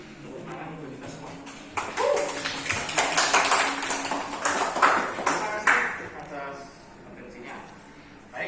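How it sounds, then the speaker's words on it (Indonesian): A classroom group of teachers and students breaks into applause, a burst of dense clapping that rises and then fades, mixed with people talking throughout. "Oke, tepuk tangan untuk kita semua"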